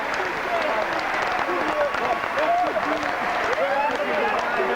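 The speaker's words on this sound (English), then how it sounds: "it's Leeds that take all the applause from this home Headingley crowd" Home crowd at Headingley applauding Leeds after a 1998 academy rugby league grand final against Wigan, a broad steady roar of clapping and cheering throughout, with a commentator speaking over it.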